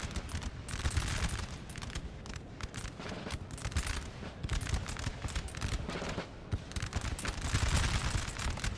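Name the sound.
musket gunfire in video game Napoleonic Total War 3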